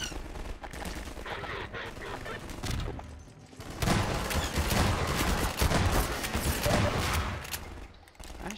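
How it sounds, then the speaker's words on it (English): Shotgun blasts and other gunfire in Half-Life 2, dense and loud throughout with a brief lull before the firing swells again; a voice talks faintly underneath. "That shotgun does work good though."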